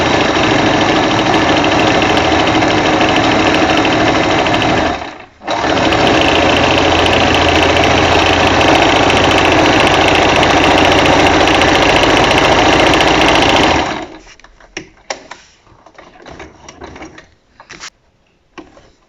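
A sewing machine embroidering a fabric face mask, running in a loud steady buzzing drone with one brief stop, then halting and giving way to scattered handling clicks and rustles.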